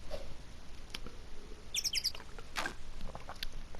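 Synthetic bird chirps from an Ace Attorney video game, a quick cluster of high twittering notes and a later single chirp, moderately loud over a steady low background hum.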